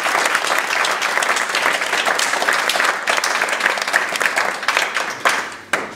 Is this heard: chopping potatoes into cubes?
no